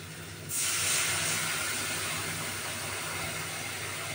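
Water is poured onto frying spice paste for a potol chicken dorma, setting off a sudden loud hiss that settles into a steady, broad sizzle.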